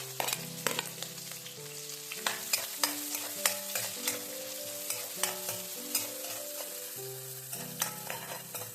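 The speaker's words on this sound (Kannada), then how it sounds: "ಸಾಸಿವೆ ಕೂಡ ಬಿಸಿ ಆದಮೇಲೆ ಈರುಳ್ಳಿ ಹಾಕ್ತಾ ಇದ್ದೀನಿ" Onions being stirred into hot oil with popping mustard seeds, a close, quiet sizzle broken by repeated sharp scraping strokes of a spoon against the pan, with no voices.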